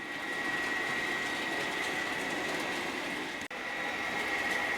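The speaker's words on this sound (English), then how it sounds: "sometimes it's just nice just to watch the locos trundle around. And you can hear there." A steady rumbling run of a Bachmann model locomotive, a Class 57 or ROD 3023, along its track, with a constant hum and a faint high whine, fairly close.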